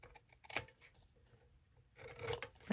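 A stack of paper being trimmed by hand, with scraping, rubbing cuts in short bursts, one near the start and a longer stretch at the end, separated by quieter handling sounds.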